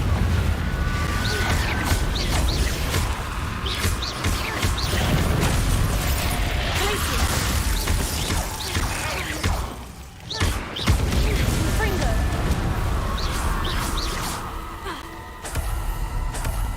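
The Confringo explosive spell cast in a Harry Potter video game: dense, sustained bursts and crackling booms fill the scene, with mechanical clatter and a sharp dip and renewed blast partway through.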